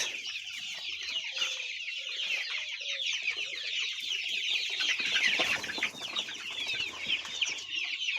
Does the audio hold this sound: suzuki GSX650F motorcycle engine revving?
no